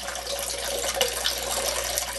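Steady rush of water running from a hose while brewing beer, continuous and fairly close, with a few faint clinks over it.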